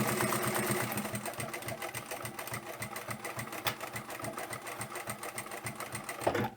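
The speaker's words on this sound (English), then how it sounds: "I'll do a back stitch here, and then I'm going to stitch on up to here." A sewing machine stitches a half-inch seam on a lined drawstring coin pouch, its rapid, steady mechanical chatter running continuously at close range with no talk.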